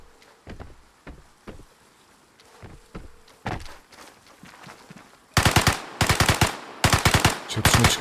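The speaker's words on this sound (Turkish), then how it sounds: "Çatışma çıktı." Gunfire in a firefight in the video game Vigor: scattered single shots at first, then loud, rapid automatic bursts rattling in quick succession.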